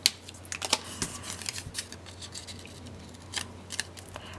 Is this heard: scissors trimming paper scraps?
yes